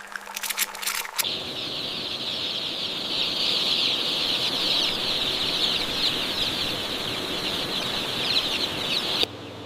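Newly hatched broiler chicks cheep in a dense, continuous chorus inside an egg incubation factory, a bright, steady chatter that fills the space.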